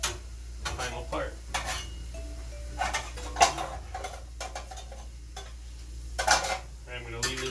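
Quesadilla filling with meat cooks in a pan, a quiet sizzle beneath repeated scraping and clinking of a utensil stirring against the metal, close and intermittent.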